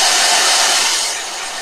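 A blow dryer runs steadily on drying a watercolor painting, a loud continuous airy whoosh that eases slightly toward the end, with no talking.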